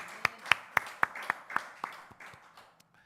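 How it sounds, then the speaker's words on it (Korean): A short burst of hand clapping at a church service, about a dozen sharp claps in a steady rhythm that slows and fades out. "박수."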